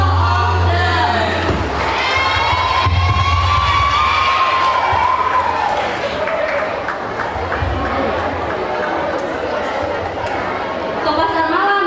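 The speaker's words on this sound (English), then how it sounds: "Let's give the biggest applause for all of them." An audience at a school anniversary event in Indonesia claps and cheers while children shout and chatter, with voices rising and falling throughout.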